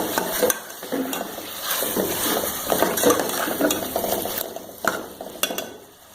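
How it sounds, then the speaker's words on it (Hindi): Red chillies and other spices for arvi gosht fry and are stirred in hot oil in a pan. A steady loud sizzle runs throughout, broken by repeated scraping and clicking of the spoon close by, with no voices. "अब इसे हम इसमें डाल के सारे मसालों को अच्छे से भूनेंगे"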